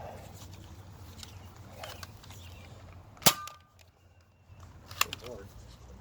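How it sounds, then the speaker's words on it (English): A Nerf Hot Shock blaster loaded with K26 darts fires once with a sharp, loud snap, and a second, fainter pop follows a couple of seconds later over low background noise. "finally, we have my Hot Shock with K26 firing first"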